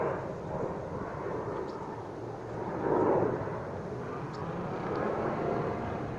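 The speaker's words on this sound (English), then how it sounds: "that's a Southwest Airlines plane flying directly where I am, okay? That's why you can hear it." A Southwest Airlines plane flying overhead, heard as a steady low, distant rumbling roar that swells slightly in the middle, with no talking.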